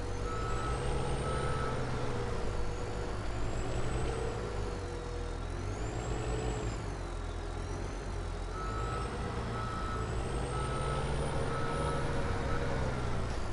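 Skid steer working a dirt pile in Farming Simulator, a steady droning engine hum with shifting revs and a high whine rising and falling throughout, no talk.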